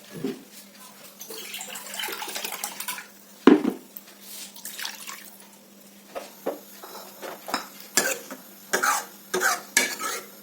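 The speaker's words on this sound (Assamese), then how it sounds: "এতিয়া মই অকণমান পানী ইয়াতে দিম আৰু ভালকৈ এতিয়া লৰাই দিম।" Dal made with koldil and masoor moong, with water just added, is stirred in a pot: irregular scraping and sloshing strokes with clinks of the utensil, plus a soft cough-like sound and a little background noise.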